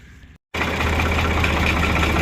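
A tractor's engine idles loud and close in a front yard, a steady low rumble that runs unbroken for about two seconds after a brief cut to silence at the start.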